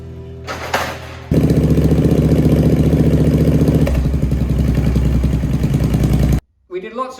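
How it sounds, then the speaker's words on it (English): A Triumph Bobber motorcycle engine fires up and runs loud and close on a dyno, a rough rumbling idle with mechanical clatter that holds steady for several seconds before cutting off abruptly. "We've got the bobber, SBW mechanical look, and we're going to get it on the dyno."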